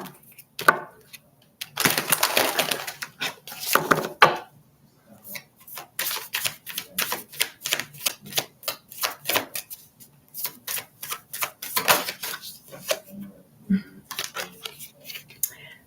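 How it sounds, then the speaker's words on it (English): Tarot cards are shuffled by hand in a rapid series of crisp riffling bursts and flicks, loud and close, with short pauses between runs and no talking. "One more shuffle."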